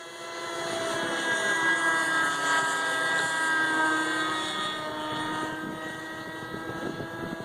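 A Kyosho Cal 30 radio-controlled helicopter in flight outdoors in gusty wind, engine and rotors droning loudly, the pitch wavering and easing slightly as it manoeuvres, with wind buffeting underneath.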